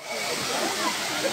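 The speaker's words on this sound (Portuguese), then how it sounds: "É a cachoeira aí, ó." A waterfall at Poço de Deus in Chapada Diamantina, Brazil, giving a dense steady roar of rushing water that is loud and continuous throughout.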